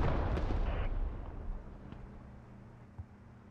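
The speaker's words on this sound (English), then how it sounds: "There you go, artillery starting to land too." Artillery shells landing in a war video game about a Russian assault on a forward operating base: heavy rumbling blasts at the start fade into a low rumble, followed by two sharper, fainter impacts.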